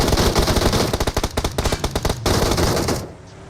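Automatic gunfire in the PUBG video game, loud, rapid bursts of shots in quick rhythmic volleys, close and dominant, ending abruptly into near silence.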